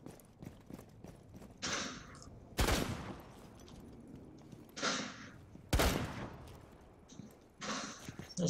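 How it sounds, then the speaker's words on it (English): Two heavy shotgun blasts in Rainbow Six Siege, about three seconds apart, each a loud sharp crack with a short tail, between softer in-game bursts and movement noise, with a voice talking quietly. "Shotgun. That's no bueno."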